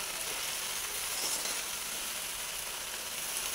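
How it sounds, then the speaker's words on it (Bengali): Steady, close sizzling from a pan as washed pumpkin leaves are added to spiced eggplant and potato and stirred, with an even hiss and faint clicks of stirring throughout. "শাকটা আমি অল্প অল্প করে দেবো আর নাড়তে থাকবো"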